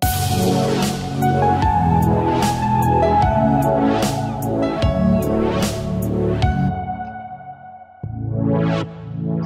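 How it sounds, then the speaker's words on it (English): A lush, sustained chillstep-style synth pad with soft swelling chords and airy high shimmer, steady and full, with a brief dip and re-entry near the end. "how to make this sort of pad synth"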